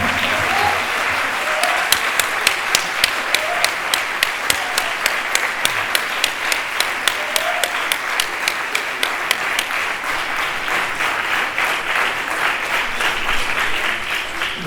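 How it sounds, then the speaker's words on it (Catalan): An audience gives sustained applause for Fermín Marimon at a cinema presentation, a dense, even clapping that continues for about fifteen seconds. "Un aplaudiment pel senyor Fermín Marimon."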